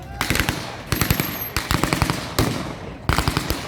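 A .50 cal machine gun mounted on a jeep fires loud, close bursts at a 1940s WW2 battle reenactment at Quex Park. Four rapid strings of shots are cut by brief pauses.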